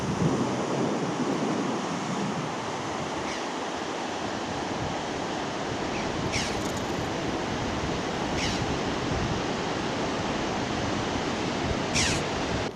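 Steady broadband rushing cold wind in Dagestan fills the whole stretch, continuous and fairly loud, with a few faint high clicks scattered through it.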